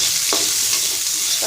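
Chopped onions fry in a pan for chickpea frying, a steady loud sizzle with a couple of sharp scraping stirs of the spatula.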